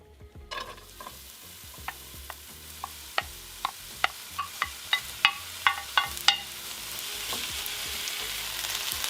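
Garlic, onion, Anaheim peppers and tomatoes sizzling in olive oil in a pan, a steady fry hiss with a run of evenly spaced utensil taps and stirs against the pan, growing louder toward the end.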